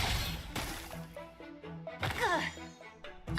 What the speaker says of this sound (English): Rock-shattering slash!